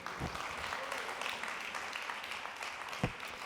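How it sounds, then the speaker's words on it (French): Audience applause at the close of a French public debate on algorithmic access to legal rights, a steady dense wash of clapping through the room with a few sharper claps standing out, moderately distant and fairly quiet. "On peut les applaudir."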